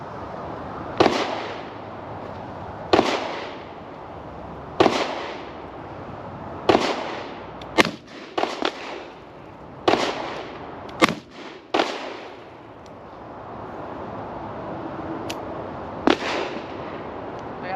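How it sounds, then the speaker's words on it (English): A .44 Magnum revolver fired at an outdoor shooting range, a series of about a dozen loud, sharp gunshots at irregular intervals of one to two seconds, some in quick pairs, each with a short ringing decay and no talk over them. "she's got the 44 Magnum now and she's gonna shoot it"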